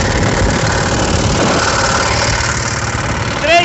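A small Toyama 3.3 HP diesel engine runs steadily at close range, a loud, even mechanical rumble with a brief squeaky tonal sound near the end.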